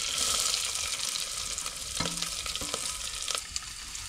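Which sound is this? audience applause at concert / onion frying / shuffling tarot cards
onion frying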